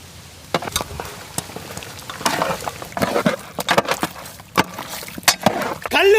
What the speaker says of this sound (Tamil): நல்லா கிண்டு